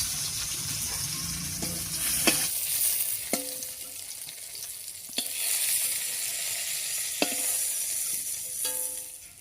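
Pointed gourd fritters sizzling in hot oil, a steady hiss of frying at a low, even level with a few sharp clinks of a utensil against the pan.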